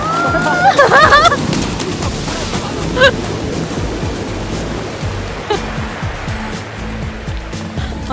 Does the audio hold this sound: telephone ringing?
no